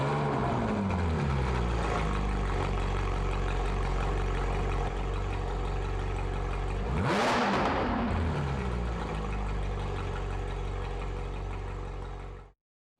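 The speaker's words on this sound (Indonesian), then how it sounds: "sekarang saatnya yang paling dinanti-nantikan yaitu kita start up mobilan nih" A Ferrari 458 Spyder's engine fires up with a sharp rising rev burst, then settles into a loud, steady, rumbling idle that runs close and unbroken until it cuts off.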